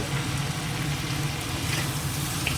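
Spices sautéing in hot oil in a pan, with turmeric, coriander powder, cumin powder and salt added, giving a steady, close, even sizzle throughout with no voices.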